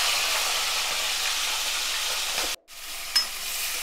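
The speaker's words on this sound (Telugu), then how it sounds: "ఇదిగోండి పచ్చిరేలు వేగుతున్నాయి." Raw prawns fry in hot oil in a pan with a loud, steady sizzle. The sizzle cuts out for a brief moment, then resumes after a small clatter, and no one talks over it.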